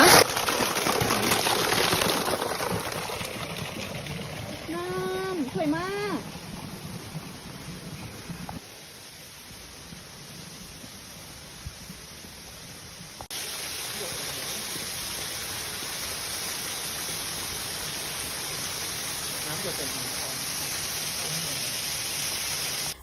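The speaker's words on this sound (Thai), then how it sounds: "ระหว่างทางก็จะมีน้ำตกเล็กๆ แบบนี้นะคะ" A small rain-swollen waterfall pours along a trail toward the Wat Tham Soda falls in rainy season, making a steady broadband rush. Brief voices rise over it early on, and the flow continues alone afterward.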